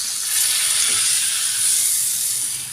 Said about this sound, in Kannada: ಘಮ್ ಅನ್ನುವಂಥ ಒಂದು ಒಗ್ಗರಣೆ